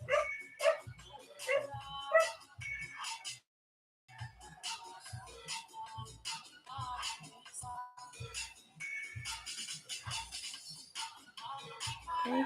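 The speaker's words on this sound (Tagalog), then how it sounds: "Ngayon ang asong to ah." A dog on a Philippine barter fish landing gives short repeated barks and yips in bursts, fairly close, mixed with people talking and general outdoor commotion, with a brief pause partway through.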